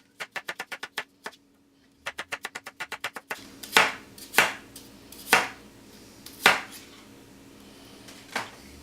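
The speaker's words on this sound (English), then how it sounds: "so we get this apple chopped down" A knife chops an apple on a cutting board, first in quick runs of crisp, regular taps, then in a few slower, heavier cuts spaced out over several seconds.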